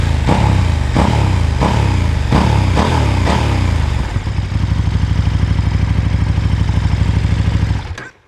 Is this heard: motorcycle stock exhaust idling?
yes